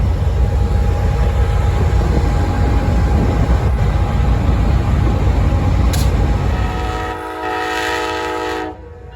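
The California Zephyr passenger train rumbles loudly alongside the station platform with steady mechanical noise and a faint high tone, easing off and then cutting out near the end.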